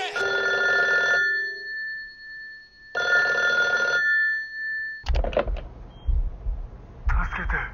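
An old black telephone rings inside a video game, with two clear, loud bursts of ringing separated by a short pause. Scattered voices and other noises follow.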